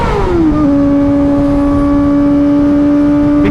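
A Kawasaki ZX4RR motorcycle engine wails at high revs while riding, its pitch dropping sharply as it shifts up a gear and then holding a loud, steady, close drone.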